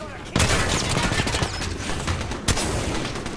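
Gunfire in the Apex Legends Season 21 video game pops through a dense, loud battle mix, with sharp shot onsets standing out against continuous rumbling game noise.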